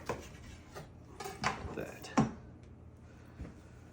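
A knife cutting into an air-fried turkey breast with a crust, a few scraping, crunchy strokes against a board, close and fairly quiet, with someone talking over them.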